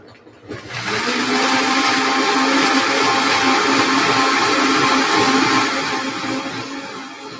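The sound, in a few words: blender blending almonds smooth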